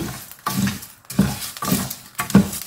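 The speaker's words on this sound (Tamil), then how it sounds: "பொரி சத்தம் கேட்குது பாருங்கள்" Ingredients dry-roasting in a pan, with repeated bursts of scraping and crackling as they are stirred, coming in an uneven rhythm of loud close strokes separated by brief quieter gaps.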